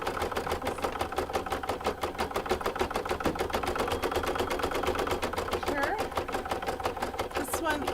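An embroidery machine stitches out an in-the-hoop appliqué maple leaf coaster with a steady, rapid needle clatter that runs unbroken throughout at moderate, close range.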